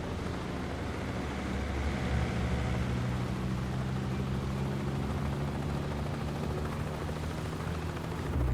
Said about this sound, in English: Bavma's heli is inbound